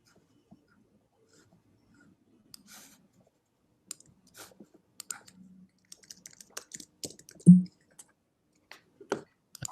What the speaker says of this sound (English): I think maybe Madan Gopal, you're the one who's typing but not muted